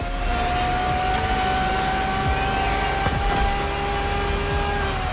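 Ferrari LaFerrari hybrid supercar driving in The Crew Motorfest, a steady loud engine drone with a sustained tonal whine, a few quick tire or gear transients breaking through around the middle.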